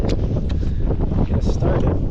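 Breezy outdoor wind gusts buffet the microphone with a close, low, rumbling roar that rises and falls unevenly throughout.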